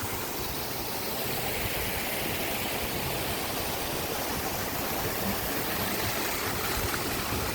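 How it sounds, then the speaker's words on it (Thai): A waterfall at a hillside Thai temple pours in a constant, even rush of broadband water noise that stays steady from start to end, with no voices. "น้ำตกไหลเย็นนะครับผม"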